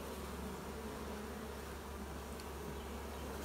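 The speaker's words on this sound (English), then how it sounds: "Some worker bees looking for the queen." Honeybee workers pour from a hole in a car door, their massed wings making a constant, close buzzing drone that holds level throughout, with nobody speaking.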